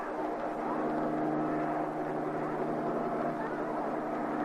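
A police helicopter flies overhead in a 1982 horror film scene, a loud, steady engine and rotor drone that holds evenly throughout.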